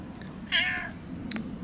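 A cat gives a single short meow, fairly close and quiet, with a couple of faint clicks around it.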